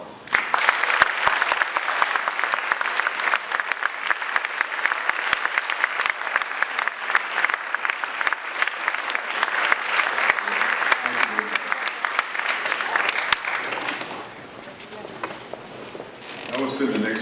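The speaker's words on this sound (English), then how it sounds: "Let's give them a really loud round of applause." Loud, sustained applause from a crowd at the Golden Pyramid graduation ceremony held by the Urban League of San Diego County, dense clapping that goes on for about fourteen seconds before dropping to a few scattered claps.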